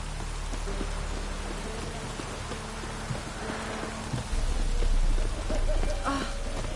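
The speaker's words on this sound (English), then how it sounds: "Looks like rain." Rain falls steadily in the video game Witcher 3 on PS4, a constant hiss that swells louder near the end, with faint low game sounds and a brief voice beneath it.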